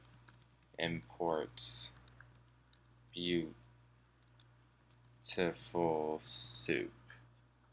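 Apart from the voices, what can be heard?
typing Python code on a computer keyboard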